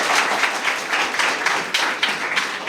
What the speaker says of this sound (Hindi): एक बार ताली बजा दीजिए सर के लिए।